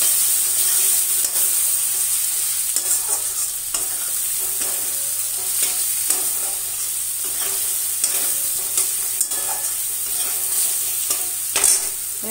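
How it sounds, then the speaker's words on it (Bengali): Black pepper, cumin and coriander fry in hot oil, making a constant close sizzle and hiss with frequent scraping stir strokes and no voices. "এটা তেলে একটু ভেজে নেবো তাহলে গন্ধটা ভালো হয়"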